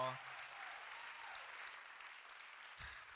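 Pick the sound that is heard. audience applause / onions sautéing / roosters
audience applause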